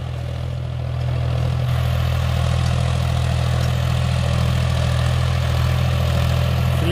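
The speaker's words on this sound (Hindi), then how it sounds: "रुका नहीं है ट्रैक्टर एक बार भी, हाई के पहले गियर में।" A John Deere 5050D tractor engine pulls an 8×8 disc harrow in high range first gear, a steady, loud low drone under heavy load, a constant deep rumble throughout with no pauses, sounding close by.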